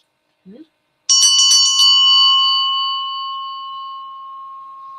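A bright bell rings once and its metallic tone lingers and slowly fades, preceded by a brief soft sound.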